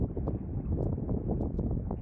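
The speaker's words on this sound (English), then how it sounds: "Quite windy today. It's rods dancing about all over the place." Blustery wind buffets the microphone while fishing outdoors in Napier, a constant low roar with gusty pulses and no voices.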